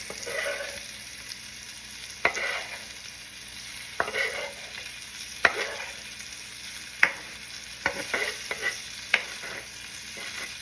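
Filet mignon steak frying in a pan gives a continuous close sizzle, broken by several sharp scrapes and clacks from flipping and handling.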